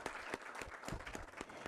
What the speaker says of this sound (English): So a big round of applause to DFF today